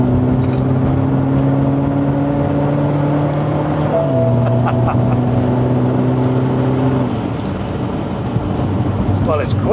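BMW X1 25d diesel SUV accelerating hard, a loud droning engine note rising through the revs with a gear change midway, heard from inside the cabin with no speech.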